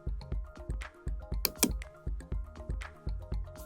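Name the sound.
typing on a computer keyboard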